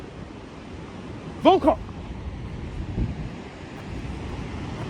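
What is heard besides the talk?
Atlantic Ocean waves and wind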